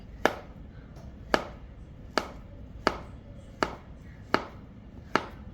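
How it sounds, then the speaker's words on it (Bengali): A knife cuts through peeled bananas on a board, seven crisp evenly spaced chops ringing out against a quiet background. "কলা দুটো ছুলে নিয়েছি এবার আমি এটা কেটে নিব"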